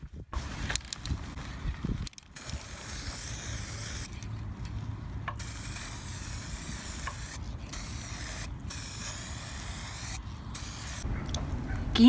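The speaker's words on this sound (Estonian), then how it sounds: "Lõpuks on alusvärv ära kuivanud ja saame hakata kuldsega spreitama." Gold spray paint hissing from an aerosol can onto recycled-material animal figures in bursts of steady spraying separated by short pauses, close and fairly loud.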